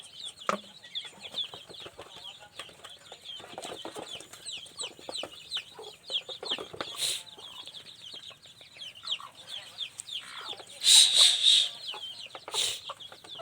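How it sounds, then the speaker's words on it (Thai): Ducks and chickens on a farm set among rice fields, busy clucking and chattering calls layered throughout, with a few louder, close squawks near the end. "เป็ดไก่"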